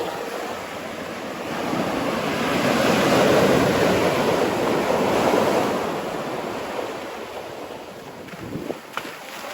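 Ocean surf rolls in at a wedge break used for bodyboarding and skimboarding, a broad washing roar that swells and fades in a light south wind, steady and fairly near with no talking.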